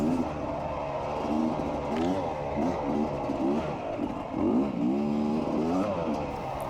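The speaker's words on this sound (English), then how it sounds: "I'm just trying to see how the first gear works just through the trails" Kawasaki KLX dirt bike ridden along trails in first gear, its engine droning and rising and falling in repeated revs under a speaking voice.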